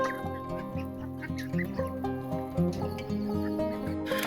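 A flock of Cayuga ducks and young ducklings quacks and chatters close by, overlapping calls coming in a busy, uneven stream.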